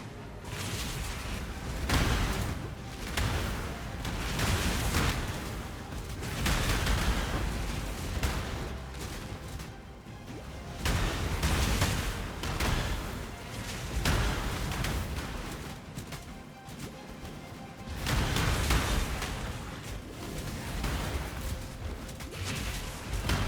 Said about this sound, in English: we have the Profane Bloom explosions, we have the Night Proliferation, and we have the Ascendancy explosions too